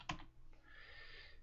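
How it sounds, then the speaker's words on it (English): Quiet keystrokes on a computer keyboard, a sharp click or two near the start followed by soft, steady background hiss with faint tapping, heard alone at low level. "Now I can start typing in Carver"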